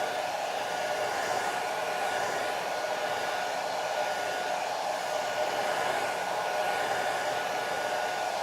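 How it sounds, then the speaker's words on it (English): A blow dryer runs steadily over a watercolor painting, a constant even whoosh heard close and alone for several seconds with no breaks. "Now we'll use the blow dryer."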